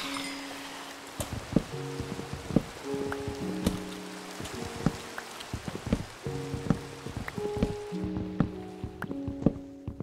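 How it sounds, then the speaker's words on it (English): Steady rain falls in the Minecraft video game, a soft continuous patter with scattered drip-like taps, heard alone at moderate level alongside faint tonal game noises. "And it's raining again."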